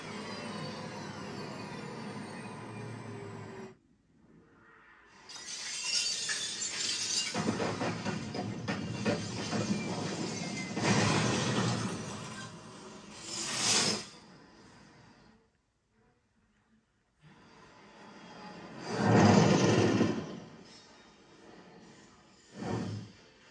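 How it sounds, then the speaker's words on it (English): A movie helicopter crash effect plays through home theater front wide speakers as swelling rumbling, hissing bursts separated by near silence, loud and full, with no talking. "especially this the effect that when the helicopter comes down crashing"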